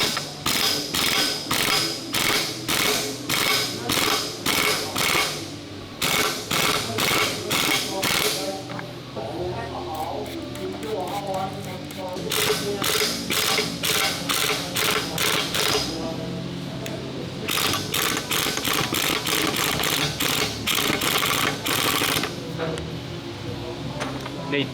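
Air-powered impact wrench fitted with an impact socket, working on a German wartime engine: loud, close bursts of rapid rattling hammering, several seconds each, separated by brief pauses.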